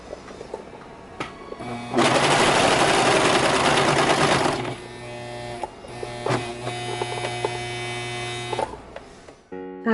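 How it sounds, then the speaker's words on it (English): A serger overlocking machine runs in a loud, fast whirring burst as it serges fabric edged with rickrack, then continues in shorter, quieter runs with pauses between. "I take it to my serger and I attempt to serge it."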